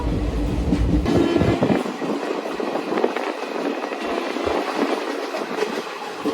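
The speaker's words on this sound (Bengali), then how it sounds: "একটা চল্লিশে ট্রেন আসলো রাইট টাইমেই চলছে" A passenger train bound for Nabadwip Dham, West Bengal, rolls along with a steady rumble and rhythmic clatter of wheels on the track, heard from close by without any talking.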